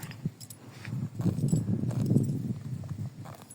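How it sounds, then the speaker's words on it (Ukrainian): Horses walk with an uneven clip-clop of hooves, fairly close and moderately loud, mixed with soft rustling and jangling. "Коніки, коніки."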